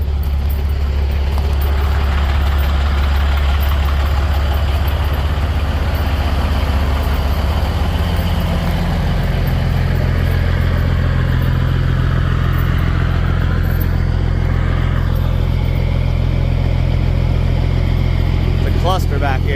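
Several engines of a car collection, burning diesel, E85 and gasoline, idle together in a loud, steady, close rumble, one engine's pitch shifting partway through, with someone talking over them.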